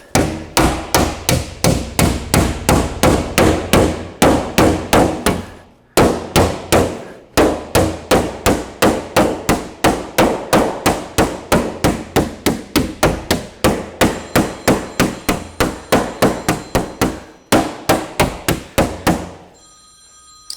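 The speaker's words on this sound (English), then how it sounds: "and I'm going to touch it up with the hammer." A hammer strikes a metal rear guard panel of an Austin Healey during shaping, a fast, steady run of loud, ringing blows repeated for about twenty seconds with a few short pauses.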